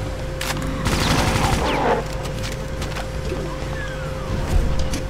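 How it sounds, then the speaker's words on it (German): Gunfire in Brutal Doom running on GZDoom at Ultra Violence difficulty, a couple of sharp shots then a short burst of rapid fire, followed by quieter game noise with a steady tone underneath. "Dass man hier bei Ultraviolence immer so oft drauf schießen muss."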